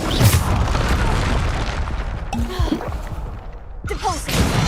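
Bombarda explosion spell in Hogwarts Legacy, a heavy booming blast up front that rolls into a sustained rumble, followed by lighter impact cracks and whooshes of combat, loud and close.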